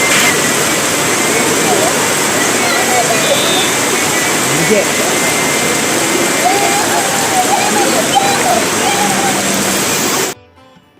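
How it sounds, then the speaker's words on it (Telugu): Heavy rain at Srikalahasti, Andhra Pradesh, pouring in a dense, unbroken roar for about ten seconds before cutting off abruptly. "ఫుల్ వర్షం స్టార్ట్ అయిపోయిందండి"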